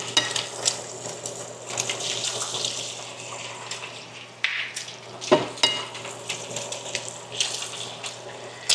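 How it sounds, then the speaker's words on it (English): Eggs frying in a pan, a steady close sizzle and crackle with occasional scrapes and clatters of a utensil, no talking. "Now what I'm gonna do is cook some eggs."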